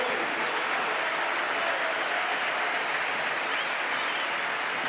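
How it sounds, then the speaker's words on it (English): Steady applause from a large stadium crowd at a Barcelona versus Mallorca football match greets a substitution, a dense, continuous wash of clapping with no breaks, heard from a distance. "Big applause to the Dutchman."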